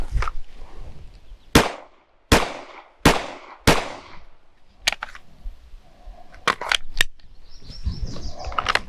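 Pistol shots from a draw-and-fire drill at an outdoor range, sharp loud cracks in quick pairs and small groups with short pauses between strings, a few birds chirping in the background.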